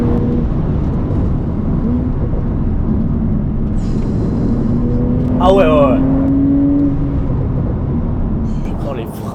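A Porsche 992 Turbo S accelerates hard on an open road, its engine note climbing in a steady rising drone under a man's brief remark inside the car.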